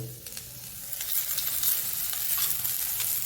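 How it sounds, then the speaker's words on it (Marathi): Grated coconut, chili and garlic fry in a little oil for ridge gourd peel chutney, giving a steady, close sizzle with soft stirring scrapes throughout and no talking. "हे आता मस्तपैकी असं तेलावरती परतून घेते म्हणा नाहीतर भाजून घेते"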